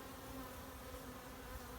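Honey bees buzz in a dense, steady drone at the front of a busy hive with drones about, close and continuous with no voices.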